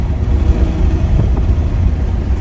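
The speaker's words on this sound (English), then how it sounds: "That V12 sound never gets old." A Ferrari Purosangue's V12 engine hums as a loud, steady low-frequency drone from the road, heard from inside the cabin while driving, with no voices.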